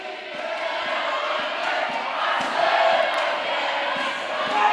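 A crowd at a school-games judo team match roars and cheers steadily, a broad, sustained wash of voices with scattered shouts and claps, loud and continuous throughout.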